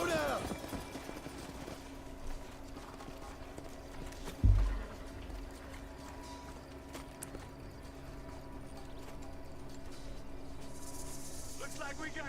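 Horse hooves clip-clop in a Western video game as riders slow their mounts, a soft steady hoofbeat rhythm over an ambient outdoor bed with a single heavier thud midway.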